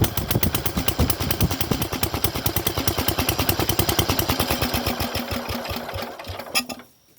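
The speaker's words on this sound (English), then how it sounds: "We'll just see what this little pancake muffler sounds like." Small engine fitted with a little pancake muffler runs steadily, giving a loud, rapid, rattling putter close to the mic before cutting off abruptly near the end.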